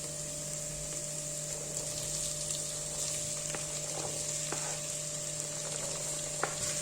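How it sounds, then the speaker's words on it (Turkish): Tomato paste sizzles in a pot with diced potatoes for a Turkish winter soup, a steady frying hiss with a constant hum underneath and a few sharp clinks from a spoon stirring against the pan. "Salçada da kavrulduktan sonra 3 adet küp küp doğranmış patatesi ekliyorum"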